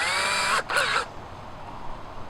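A power drill with a dull bit whines steadily into plywood for about a second, then stops and leaves a low hum, near and fairly loud with no talk.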